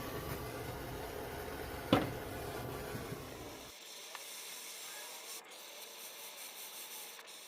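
A torch flame hisses steadily while heating a bung, a broad rushing roar that drops to a softer, thinner hiss partway through, with no talking.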